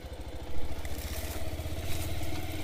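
A motorcycle engine chugs steadily in a low, rumbling drone while the bike bumps along a rough, barely formed dirt track near Pokhara, with faint rattling over the engine note.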